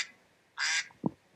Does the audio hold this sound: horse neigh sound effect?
no